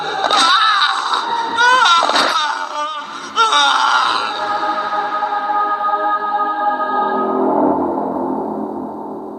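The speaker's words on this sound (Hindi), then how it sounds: "और तभी अचानक विक्रांत की तेज चीख सुनाई देती है।" A man's loud, drawn-out scream with wavering pitch rings out in a Hindi horror story, followed by echoing tones that slowly fade away.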